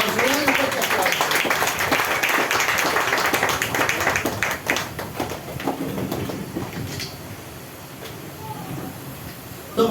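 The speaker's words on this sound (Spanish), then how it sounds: "Un fuerte aplauso, hermano." Dense clapping from a church congregation fills the first half, loud and continuous, then thins into scattered claps and background noise.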